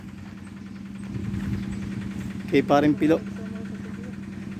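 A boat engine idles with a steady low hum and vibration throughout, while someone talks briefly over it.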